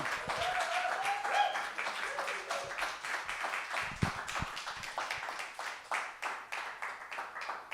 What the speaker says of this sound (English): Everybody, let's start clapping, start cheering.